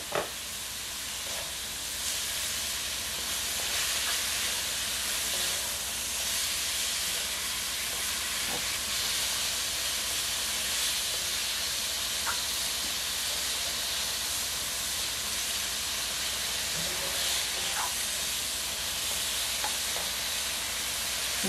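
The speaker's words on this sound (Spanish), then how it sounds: "Vamos a dejar ahí que se sofría un momentico, vamos a estar moviéndolo para que no se nos queme" Pork, rice and vegetables frying in oil in a pan, a steady close sizzle and hiss with occasional faint clicks of stirring, continuous and even throughout with no talk.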